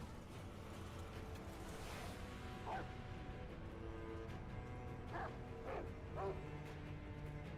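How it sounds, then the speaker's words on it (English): A dog barks in a few short, separate bursts over a steady background hum indoors, with the barks moderately loud and spaced irregularly. "Stop barking and come over here."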